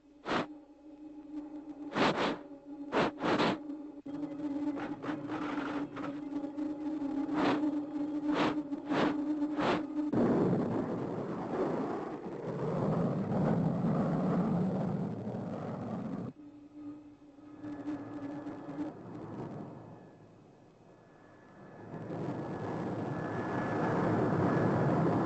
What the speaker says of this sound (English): Space Angel just landed in the Starduster.